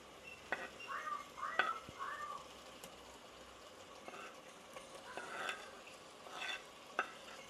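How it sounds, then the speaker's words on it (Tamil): Masala-marinated prawns frying in a pan for Jaffna prawn biryani, quiet sizzle under intermittent spatula stirs and scrapes, with a few faint chirps in the background. "போட்டுட்டு அப்படியே வந்து கிளறி விடுறேன்"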